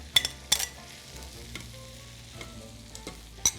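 Chicken pieces sizzling in a pan for Thai cashew chicken with rice already mixed in, a soft continuous fry broken by a few sharp scraping stirs and clinks at the start and end, with no talking.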